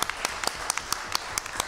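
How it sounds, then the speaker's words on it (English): A few scattered, sharp claps from a small audience at an academic comics symposium at Columbia University Libraries, sounding as separate, fairly faint taps rather than a full ovation. "Please, just one more round of applause for Karen."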